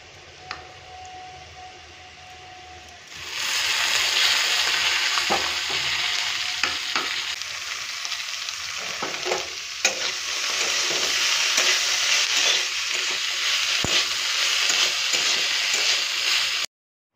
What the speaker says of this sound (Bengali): আলুটা লাল লাল করে ভেজে নিয়েছি